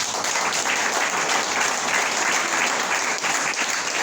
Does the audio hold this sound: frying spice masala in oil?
no